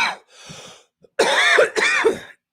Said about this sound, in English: Unless I just keep coughing